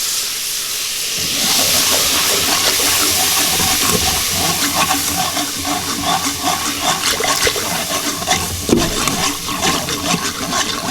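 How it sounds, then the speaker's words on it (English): Milk poured into a hot pressure cooker to make gravy for chicken fried steak, giving a strong, steady hissing, bubbling rush that starts after a brief quiet moment and keeps going loud and close throughout. "we're gonna go ahead and add some milk"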